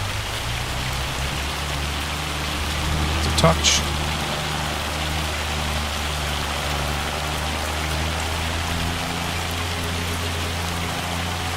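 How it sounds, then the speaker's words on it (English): Hail in Farming Simulator 25 drums as a steady, dense hiss across a multiplayer pig-farming session, constant and loud throughout, with a brief voice cutting in near the middle. "It's hail, mate, not rain. The hail is really loud."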